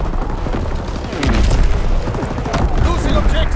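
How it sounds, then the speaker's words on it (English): Enemy artillery and gunfire in Call of Duty: WWII, with booming blasts and scattered shots forming a dense, loud battle din, while radio-style voices call out over it. "Incoming enemy artillery."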